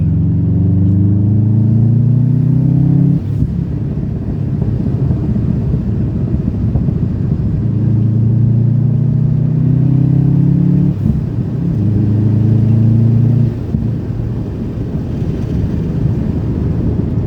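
Subaru Impreza WRX engine droning loud and steady from inside the car while driving, with rising revs that climb in pitch, drop sharply at gear changes, then climb again, continuous throughout without speech.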